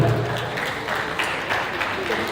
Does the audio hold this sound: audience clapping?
yes